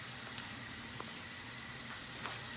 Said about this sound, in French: Donc, vu que le beurre est bien chaud, il n'y a même plus besoin quasiment. Voilà. Donc là on laisse chanter tranquillement les échalotes.